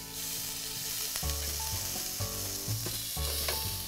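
Zucchini slices sizzle steadily in a hot pan just after being flipped, a close, even frying hiss with faint clinks and tonal hum underneath and no talking.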